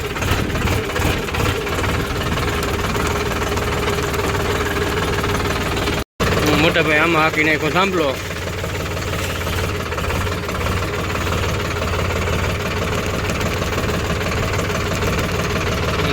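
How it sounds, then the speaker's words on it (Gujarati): A tractor engine runs loud and steady with a knocking, thumping rhythm; someone speaks briefly over it partway through. "આપણે મોટું ટ્રેક્ટર લઈને થઈ જાય હાલતા"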